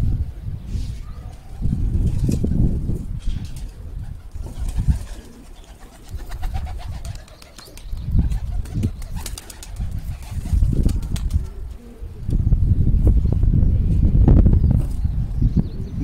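Homing pigeons in a loft giving low, repeated cooing in bursts, close and fairly loud, with occasional wing flutters and faint movement.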